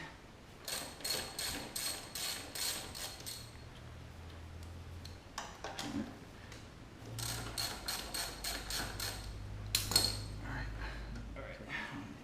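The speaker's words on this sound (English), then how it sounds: "Take my 14 millimeter, my extension, ratchet, righty tighty, lefty loosey." A ratchet turning a 14 mm socket on an extension on a motorcycle brake bolt, rapid close clicking in repeated bursts with short pauses and some metallic clinks between.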